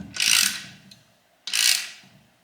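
Two rasping ratchet strokes from a hand ratchet tightening a transmission mount bolt during a Nissan Z32 transmission swap, each a loud close clicking sweep followed by a short fade, with a pause between them.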